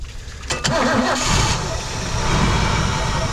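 A 1969 Thunderbird tri-hull boat engine cranks with sharp clicks, catches, and settles into a loud, steady rumbling run, close up and alone.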